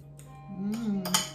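Garlic cloves crushed in a bowl with red wine vinegar for avocado dressing, giving a short run of grinding, clinking knocks that builds over about a second, close and moderately loud, with no talk.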